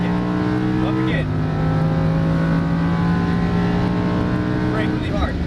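A Lamborghini Huracan LP610-4 V10 engine pulls hard on a racetrack, its steady tone stepping down sharply with an upshift partway through, then climbing and shifting again near the end, loud and continuous under a driving instructor's voice.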